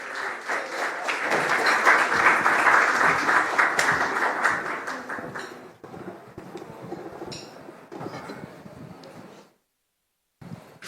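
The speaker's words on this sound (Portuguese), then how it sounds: "Uma salva de palmas." Sustained audience applause as two speakers are called onstage at an evening trading talk event, loud and dense clapping that gradually thins and fades into near silence.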